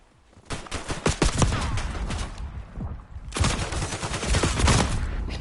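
Gunfire in a multiplayer video game shootout, with loud, dense volleys of rapid shots in two long stretches separated by a brief lull.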